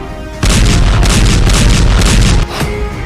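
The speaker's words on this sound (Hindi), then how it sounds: "धमाके का पहला वीडियो," A large explosion from an Israeli strike near Damascus erupts in a sudden loud, broadband roar that rumbles for about two seconds before dropping to a lower, lingering noise, with no talk.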